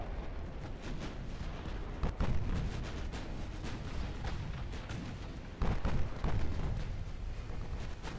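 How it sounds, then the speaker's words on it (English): Naval artillery from an enemy battlecruiser in Ultimate Admiral: Dreadnoughts, a continuous rumbling barrage with two sharp, heavy booms standing out, loud and close, with no talking. "Their battlecruiser's still shooting at me"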